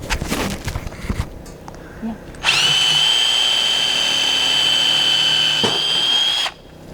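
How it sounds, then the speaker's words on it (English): A power drill bores pilot holes into a horizontal wooden board for a free-standing garden hose station, a loud steady whine running about four seconds after some brief clatter and handling noise. "So we're putting in pilot holes so that we can put in the screws on the horizontal board"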